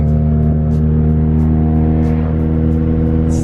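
A Ford Focus ST driving, heard from inside the car as a loud, steady engine drone with strong low harmonics, holding an even pitch throughout with faint intermittent clicks.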